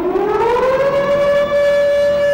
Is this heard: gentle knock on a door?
no